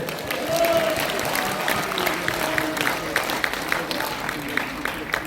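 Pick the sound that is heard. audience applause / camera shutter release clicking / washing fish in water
audience applause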